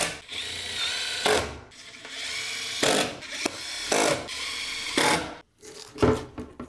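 Several short bursts of a power drill whirring as it drills into a skateboard deck propped on a table, each a second or so long, separated by brief pauses, close by and fairly loud over a steady background hum.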